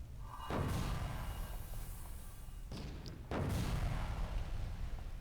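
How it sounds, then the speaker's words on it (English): A sniper rifle fires twice in the City of Heroes video game, each shot a deep booming thump followed by a long rumbling tail over a constant low background drone. "I'm getting shot by a sniper"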